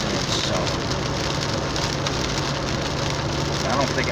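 Pouring rain drums steadily on a car driving in January weather, a dense, loud, continuous patter on the roof and windshield over a low road and engine rumble, with no pauses.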